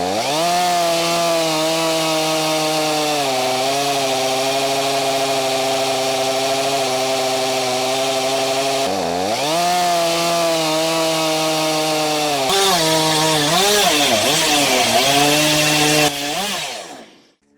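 A chainsaw rips lengthwise through a log to make boards, its engine droning loud and close with a steady pitch that dips and recovers as the chain bogs into the wood, then cuts off at the end.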